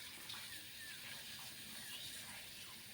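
Gobindobhog rice being washed and drained in water for pulao, giving a faint, steady wash of running, splashing water with no voices.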